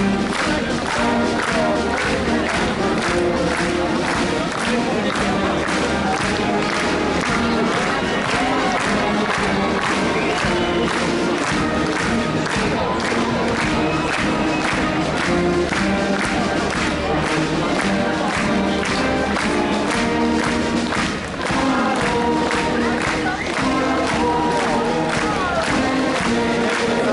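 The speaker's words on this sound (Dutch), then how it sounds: "Sanne Thijssen juichen nog een keer heel hard toe voor die prachtige prestaties" Loud, sustained crowd cheering and clapping at the Jumping Zaerum show jumping event in Sevenum, a dense unbroken roar of many voices and hands throughout, with an announcer's voice faintly mixed in.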